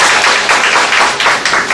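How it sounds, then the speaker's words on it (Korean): A small audience of mothers at a career-guidance lecture claps briefly together, a dense, close burst of applause in a hall. "스스로에게 박수 한번 하고 시작하겠습니다"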